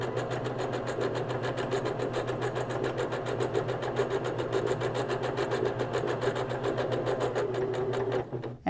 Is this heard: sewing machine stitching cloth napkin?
yes